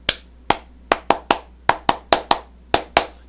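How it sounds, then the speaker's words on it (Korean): About eleven sharp hand claps ring out close and alone in a quiet room, spaced unevenly, with some quick pairs and some slower single claps. "박수!"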